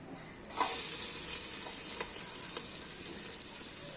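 Garlic dropped into hot oil in a pan, bursting into a bright, steady sizzle that carries on evenly close by after a quiet start.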